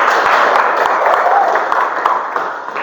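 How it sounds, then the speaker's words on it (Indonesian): A classroom of students claps for a classmate in a dense, continuous burst of applause, fairly close and loud, filling the short stretch with no clear talking over it. "Tepuk tangan dulu untuk Olan."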